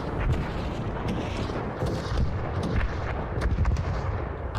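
Gunfire from a raider in the video game Arc Raiders rings out as a dense, rumbling burst of distant shots and booms, continuous over a few seconds with no talking.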